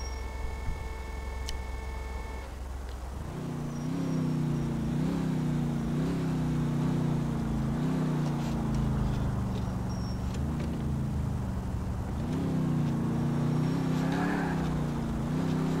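Car driving in the video game GTA IV: an engine starts after a few seconds, then hums steadily with repeated rises and dips in pitch as it shifts gears, fairly faint, no talk.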